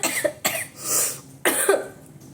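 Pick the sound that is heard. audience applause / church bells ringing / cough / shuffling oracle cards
cough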